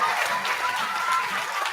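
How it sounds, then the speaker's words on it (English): Audience at a children's book awards ceremony applauding the judges, a brief, steady burst of crowd clapping at moderate volume. "Please give a big round of applause to Michael Rosen, Joe Cummins, Kate Newport,"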